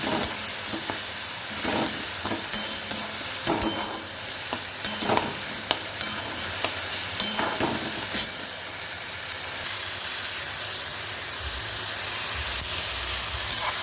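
Roasted eggplant, tomato, onion and green chili with salt fry in a pan for bharta. Repeated close scrapes and knocks of stirring and mashing sit over a continuous hiss of sizzling, with no voices.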